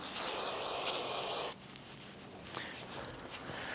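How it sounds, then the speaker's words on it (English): A loud, steady hiss of cleaner sprayed onto a 1994-2004 Chevrolet S10 rear axle housing lasts about a second and a half and stops abruptly, followed by quiet rustling and a few faint clicks. "I'm going to go ahead and spray this down and clean it up."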